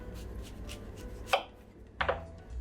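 A kitchen knife slices Golden apples in half for a tarte Tatin, giving two crisp, close cuts against a board about a second apart over a quiet background.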